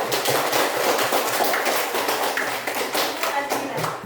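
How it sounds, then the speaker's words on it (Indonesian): A group of schoolchildren claps for the first group in a classroom, a dense, continuous burst of close applause lasting the whole moment without a break. "Tepuk tangan untuk kelompok 1."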